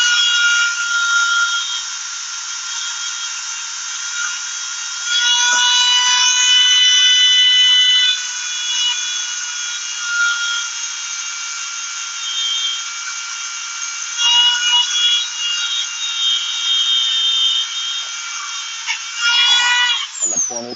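A Dremel rotary tool polishes a metal trigger part with a steady, loud high-pitched whine, its pitch shifting as the tool is moved, with brief dips where it lifts off and a clattering stop at the end.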